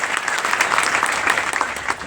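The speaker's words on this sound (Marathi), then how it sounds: "जोरदार टाळ्या होऊन" Loud, dense applause from a crowd at a Marathi political rally where local candidates are being welcomed, steady and sustained with no pauses.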